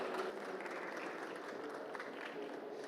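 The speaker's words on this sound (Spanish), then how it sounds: "Por favor, ayúdenme con un muy fuerte aplauso." Audience applause welcoming a speaker at a medical lecture on doping in high-performance athletes, an even patter of clapping from a modest crowd, quiet and somewhat distant, with no talking over it.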